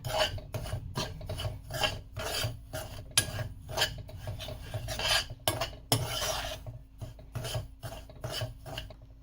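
Semolina being dry-roasted and stirred in a pan over a very low flame, with repeated scraping and rasping strokes in an irregular rhythm, close and clear with no talk.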